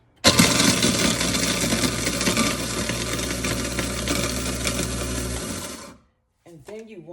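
A kitchen garbage disposal grinding ice, a loud continuous mechanical roar with rattling that starts abruptly and runs steadily for about five seconds before cutting off, followed by brief speech.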